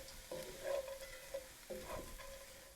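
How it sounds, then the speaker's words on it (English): A spoon stirs hash browns into cabbage in a hot skillet. Two scraping stir strokes sound close over a soft steady sizzle of frying, with no talking. "I'm gonna go ahead and give them a good stir."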